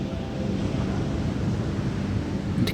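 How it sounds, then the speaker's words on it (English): Ocean waves lapping softly on a tranquil beach shore, a steady continuous wash of surf with broad rushing noise and no voices, evenly loud throughout. "The waves lap softly against the shore"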